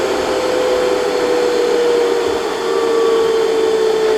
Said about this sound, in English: And the motor just slowly slows down until eventually it will stall.